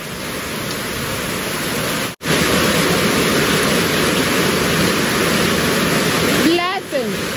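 Heavy rain pours down in a steady, loud hiss that fills the whole stretch, briefly cut off once, with a voice speaking over the downpour near the end.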